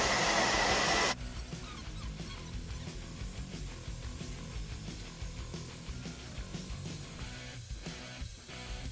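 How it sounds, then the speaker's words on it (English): A hairdryer blows steadily on full heat over vinyl wrap on a skateboard deck, a loud burst at the start settling into a continuous whooshing hum, close by. "going around all of those edges with the hairdryer on full heat"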